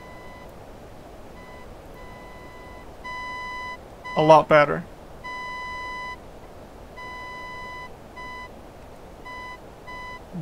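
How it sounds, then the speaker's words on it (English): A radio navigation beacon beeps in the Boeing 247D flight simulator game, a steady sequence of short, evenly pitched tones repeating in groups throughout, with someone briefly speaking in the middle. "And I can kind of hear a faint beep."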